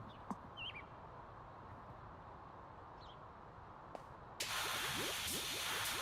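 A pressure washer's soap nozzle bursts on into a loud, broad hissing spray after a few seconds, with faint bird chirps and drips heard before it starts.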